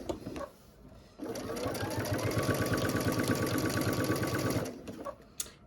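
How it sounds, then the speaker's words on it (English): A sewing machine runs steadily for about three and a half seconds, stitching a sleeve into quilt binding, with a rapid mechanical chatter close by and quiet handling noises before and after. "go ahead and keep sewing this sleeve right into my binding"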